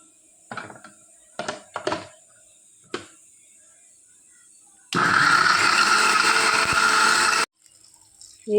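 Mixer grinder running with mustard seeds, curry leaves and ghee, a few clunks and taps of the jar, then a loud steady whirring grind of about two and a half seconds that stops abruptly.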